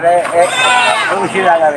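At a livestock market in Padre Garcia, Batangas, a goat gives loud, wavering bleats up close while people talk and bargain nearby.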